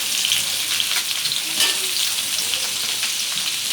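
Chopped raw mango sautés in a hot oiled pan for Tamil mango pachidi, giving a dense, continuous sizzle with faint stirring scrapes, close and steady throughout with no talk.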